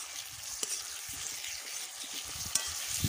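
Chopped raw mango stirred into melted jaggery and a spice tempering for a chutney, giving a faint, steady sizzle with a couple of sharp spoon knocks, close and quiet with no talking.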